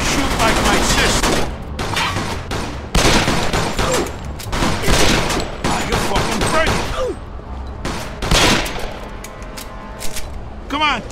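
Gunfire in the video game Mafia II: loud, dense volleys of rapid shots and sharp cracks fill the scene almost continuously, with someone shouting over the battle.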